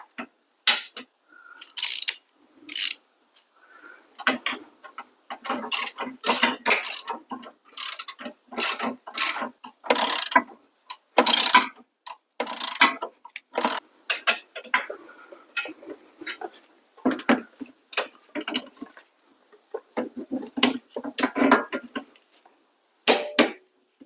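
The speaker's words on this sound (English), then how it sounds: "what you need is a 19-inch wrench. That's going to go in that flat part on the back so that you can tighten it." A wrench ratchets while tightening a strut on a 2010 Mazda 3, sending out close, crisp bursts of rapid clicking in repeated runs with short pauses between them.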